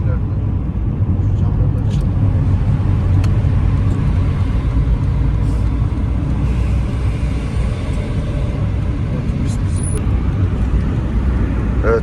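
Heavy road traffic on the way home from the new airport, heard from inside a car as a dense, continuous low rumble of engines and tyres with no distinct events, steady and loud throughout.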